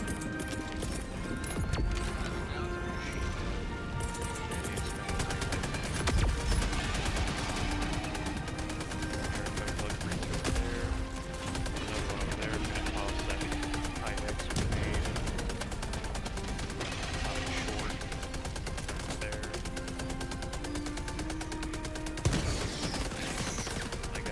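In Helldivers 2, a machine gun fires in long, rapid rattling bursts, with sustained game music underneath.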